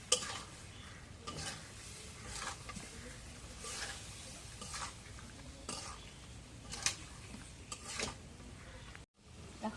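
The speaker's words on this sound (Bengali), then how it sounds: "এখন মশলাটা কষানো গেছে, মাছের মাথাগুলো দিয়ে দিই।" Fish heads fry in spice paste in a pan and get stirred, a quiet sizzle with scattered scrapes and clinks of a utensil against metal that briefly cuts out near the end.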